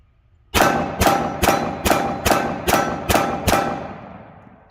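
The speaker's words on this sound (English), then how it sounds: "All right, 8 more rounds. Now this isn't going to be a mag dump. This is just going to be a controlled sequence of firing." A Nighthawk Custom 1911 GA Precision Model .45 ACP pistol fires eight evenly spaced, sharp shots in a controlled sequence, each loud crack close by and followed by a short decaying echo, with no talk.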